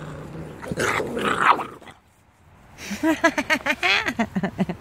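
Presa puppies growl and yip in a play-fight, a low rumble first, then a run of quick rhythmic little growls close by, with a brief pause between.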